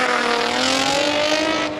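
A Porsche race car at a Cape Town hill climb sprint, its engine howling at high revs in a steady, rising tone as it passes close and loud.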